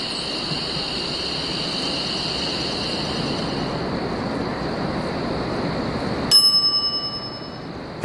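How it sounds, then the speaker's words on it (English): A shop counter bell in The Secret of Monkey Island rings once with a bright, sustained metallic tone that decays slowly, struck after several seconds of steady ambient wash. "some idiot's already ringing that stupid bell"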